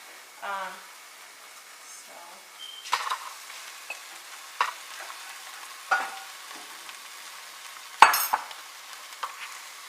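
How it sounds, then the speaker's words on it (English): Spinach goes into a pan of frying vegetables with a soft sizzle, followed by intermittent stirring scrapes and brief clinks. The sounds are close and moderately quiet. "Now I'm going to add the spinach as the last step for the vegetables."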